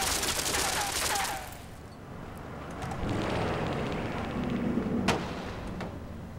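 A gun turret firing in the puzzle platformer game Limbo: a sustained rumbling barrage of booming blasts, with a sharp crack near the end.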